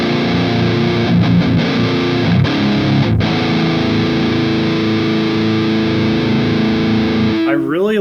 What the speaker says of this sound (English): I really like the decay on that distortion. I really like that amp growl that it has going.